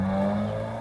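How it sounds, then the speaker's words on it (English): A race car drones steadily in the distance for under a second, a faint and even engine tone with no voices over it. "Oh, I hear a racer."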